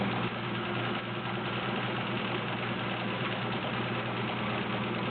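A vintage Kenmore model 1803 sewing machine stitching a very wide zigzag, giving a steady, continuous motor whir and hum that holds evenly throughout with no pauses and no voices.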